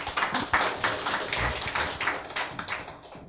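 An audience claps to welcome guests at a gathering, a quiet, steady patter of many hands with dense overlapping claps and no talking.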